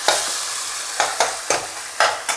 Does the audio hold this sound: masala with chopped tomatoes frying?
yes